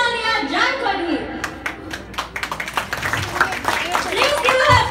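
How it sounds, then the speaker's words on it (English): Scattered then steadier clapping from a school talent show audience, sharp distinct claps building midway, with children's voices and an announcer talking over it. "Please give her a big round of applause."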